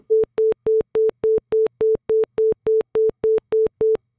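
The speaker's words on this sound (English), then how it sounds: "you're going to hear a pop. You hear that pop where it just tick, tick, tick, tick." A modular synth in Caustic repeats a single steady tone about thirteen times in an even rhythm, each note opening with a sharp clicking pop at the attack, with silence between notes.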